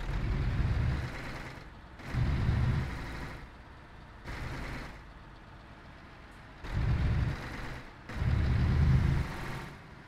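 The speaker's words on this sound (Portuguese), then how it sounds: "Olha o freio motor, vocês escutaram?" Scania 124G truck in Euro Truck Simulator 2 with its engine brake engaged, a deep low rumble that swells and fades in four or five loud bursts over steady engine drone.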